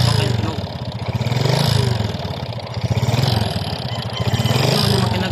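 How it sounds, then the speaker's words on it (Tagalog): Honda XRM 125 motorcycle engine running with piston slap, a close, rhythmic pulsing idle with rattling clatter that rises and falls in waves, with a voice talking over it. "Ayan po ang makina niya nang hindi pa ito nabaklas at naparibor."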